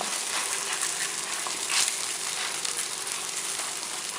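Msemen flatbread fries in a little oil in a pan, giving a steady, close, broadband sizzle that holds evenly for the whole stretch with no talk.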